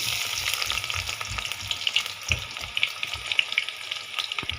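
Onion and dried chili frying in hot oil in a home kitchen pan, a dense steady sizzle with scattered crackles and a few soft stirring knocks, close and unbroken, no voices.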